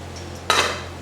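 Steamed paneer momos being lifted out of an idli steamer pot: a single sharp metallic clank of the pot or lid, followed by a brief hiss of escaping steam over a steady low kitchen hum.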